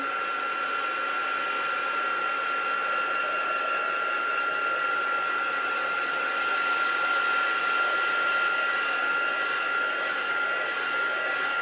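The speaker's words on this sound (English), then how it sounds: "You're going to be using your heat gun a lot with this technique" A heat gun blows a steady, close, whining hum over ink for a quick dry, holding constant for the whole stretch with a slight swell near the end.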